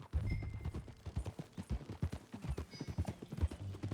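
Horse hooves clip-clop in Red Dead Redemption 2, a quick uneven rhythm of close, soft thuds that runs throughout, with a brief whinny-like tone mixed in.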